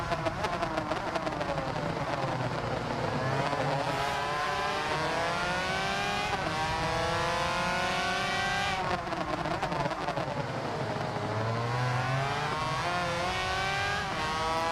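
A motorbike engine in the racing game Ride 2 revs continuously with rising and falling pitch as it accelerates and shifts gears, loud and steady, with other bikes racing around it.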